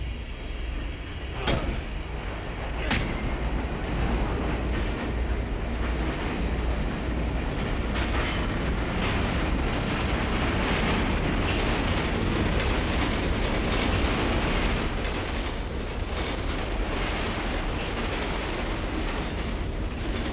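Steady rumble of a train rolling on rails in the horror game Condemned: Criminal Origins, a dense continuous clatter filling the scene from start to finish with a couple of sharp metallic clanks early on and no voices.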